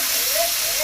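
Chicken frying in a karahi on a village stove for a simple Bengali chicken kosha gives a steady, bright sizzling hiss that runs unbroken through the moment.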